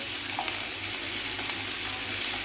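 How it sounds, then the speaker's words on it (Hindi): Vegetables fry in hot chicken oil with a loud, dense, continuous sizzle and faint stirring underneath. "उसी के अंदर हम वेजिटेबल को या सब्जियों को हम भून लेंगे।"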